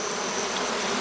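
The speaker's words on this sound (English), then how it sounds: "When you're shaking bees off your frames on a pallet in front of the hive" A brief, loud burst of honeybees buzzing as they are shaken off hive frames onto a pallet in front of the hive, a dense close drone throughout.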